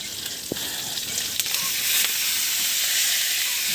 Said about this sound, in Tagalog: Gisa natin ito.